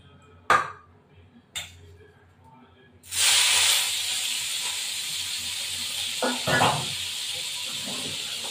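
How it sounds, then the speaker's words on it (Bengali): Shrimp dropped into hot oil in a pan, opening with a couple of sharp knocks before a sudden loud, steady sizzling hiss that carries on to the end with a few clatters, close up and with no talking. "এবার এইটুকু চিংড়ি মাছ ভেজে দিয়ে দেবো।"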